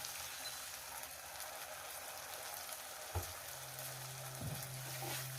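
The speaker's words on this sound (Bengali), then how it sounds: "মশলাটাকে দিয়ে আমি সুন্দর করে কষিয়ে নেব যতক্ষণ না মশলাটা থেকে তেলটা ছেড়ে যাচ্ছে" Spiced masala with chopped tomato fries in a pan, giving a steady, soft broadband sizzle throughout with a couple of brief knocks near the end.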